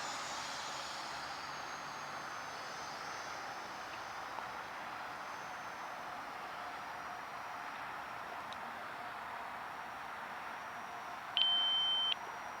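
A single high electronic beep from an RC flight timer sounds near the end, over the faint steady whine of a distant E-flite Aeroscout 50mm EDF electric ducted-fan model airplane in flight outdoors.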